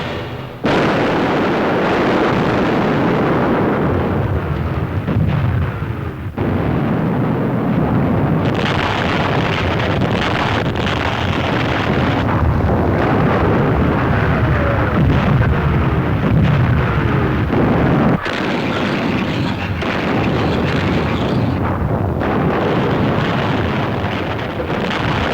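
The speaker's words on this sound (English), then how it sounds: "Shells, bombs, rockets were loosed against the beaches" Shells, bombs and rockets pound invasion beaches during a wartime Normandy landing, a loud continuous roar of blasts and rumbling fire with heavy, sustained energy and a few sharp breaks, no voices heard.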